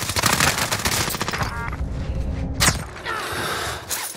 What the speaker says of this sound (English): Almost lost that gunfight because I was talking